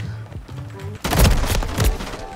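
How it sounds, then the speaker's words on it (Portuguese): A single loud sniper rifle gunshot in a video game booms after a moment of quieter game sounds, followed by a rumbling echo and further crackling shots. "É muito satisfatório esse tiro assim, né?"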